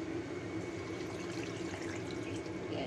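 Two cups of water are poured into a pot holding tangerine, spring onion and star anise for a taro duck dish, a steady, faint, continuous splashing stream with no talking.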